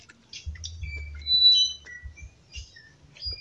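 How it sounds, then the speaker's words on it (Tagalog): Several small birds chirp and tweet in short high calls, some thin whistled notes, fairly close, with a low rumbling patter underneath and no voices. "Ang ganda ng tunog ng mga ibon."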